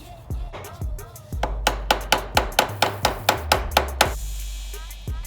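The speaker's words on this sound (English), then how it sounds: "take your flathead screwdriver and a hammer and just hammer them up." A hammer striking a flathead screwdriver to bend up the lock key on a motorcycle sprocket, about a dozen sharp metallic taps in quick, even rhythm, close and loud, with no talking.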